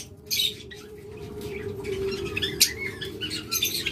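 A pair of budgerigars, an opaline male and a yellow-wing female, chirp in quick bursts with a brief flutter of wings, close by over a steady hum.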